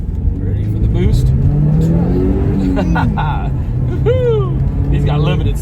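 A 1989 Porsche 944 Turbo pulls hard up a highway on-ramp, its engine rising steadily in pitch under boost with whooshing turbo spool, loud and close from inside the cabin, while someone talks over it.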